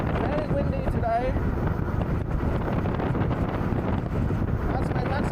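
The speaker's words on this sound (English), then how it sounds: "We are encountering some headwinds. Very windy today." Heavy wind roaring across the microphone in a constant, loud buffeting rush while riding a solar-powered e-bike into a headwind at about 22 mph, with a brief voice-like tone early on.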